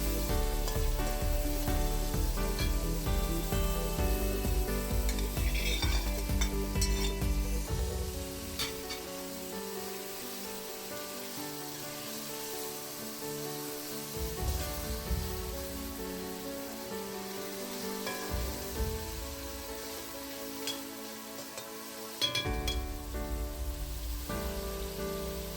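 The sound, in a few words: shrimp sautéing in pan for shrimp ghalieh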